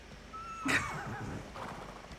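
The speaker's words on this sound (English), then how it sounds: "Why do I have so many horses?" A single horse neigh rises briefly out of a low ambient bed in the survival video game Icarus, fairly quiet, followed by soft shuffling sounds, with no talking.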